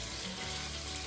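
Phodni tempering for dhokla sizzles and crackles in hot oil, a steady close frying hiss throughout the brief moment with no talking.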